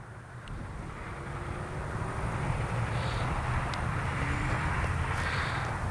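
A Freewing 64mm A-10 RC jet flies over a windy field, its steady ducted-fan whine rising slightly in loudness as it passes, heard from a distance over wind noise.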